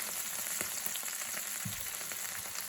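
A flat iron steak sizzles in a hot pan with a steady, even hiss and faint crackles, plus a soft low thump partway through, continuous and fairly close with no voices.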